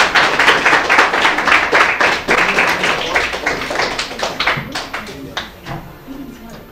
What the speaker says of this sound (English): Give a round of applause for Adam for his phenomenal presentation.